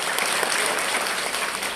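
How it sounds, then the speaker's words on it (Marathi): An audience at a devotional gathering claps throughout, dense and loud applause that fills the whole moment with no speech over it. "टाळ्या वाजवा."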